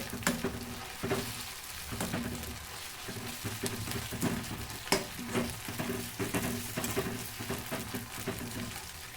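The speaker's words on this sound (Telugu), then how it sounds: "ఇది కొంచెం పచ్చి వాసన పోయేంత వరకు వేయించుకోవాలి" Freshly ground paste for chicken curry fries in a pan with a continuous close sizzle, broken by frequent stirring scrapes and clicks. No one speaks.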